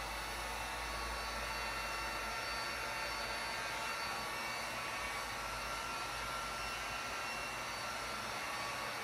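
Heat gun blowing on color change vinyl wrap over a car body, a constant loud airy roar that continues unbroken without voices.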